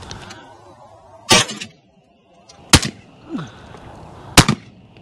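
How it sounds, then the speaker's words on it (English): Shotgun blasts during a pigeon hunt over a cut corn field: three loud, sharp shots spaced well apart, with quieter outdoor rustling between them. "Oh, nice shot, Michael."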